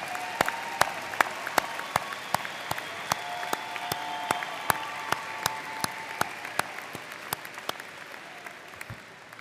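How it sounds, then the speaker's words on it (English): Applause for graduates at a 2023 Warner College of Natural Resources commencement ceremony, a steady crowd clapping with sharp individual claps standing out near the microphone, sustained for several seconds with no talk. "Let's give a round of applause to all our graduates of 2023."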